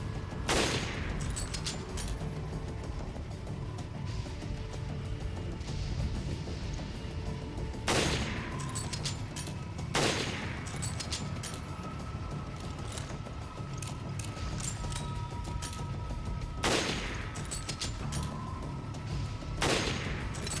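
Repeated gunfire in Resident Evil Revelations Raid mode, several loud sharp shots spaced a few seconds apart over steady game ambience and music.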